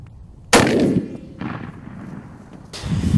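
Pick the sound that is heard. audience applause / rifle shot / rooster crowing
rifle shot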